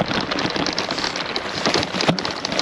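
Steady rain pattering on surfaces at a campsite during a bike tour, a dense close hiss of drops with no pauses and no talking.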